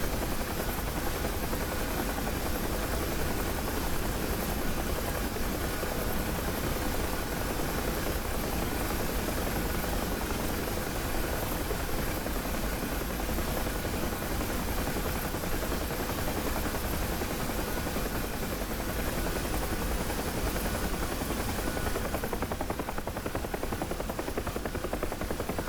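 A UH-1 Huey helicopter flies over the Marianas in DCS World, its rotor and turbine making a steady, loud, unbroken drone with no talk over it.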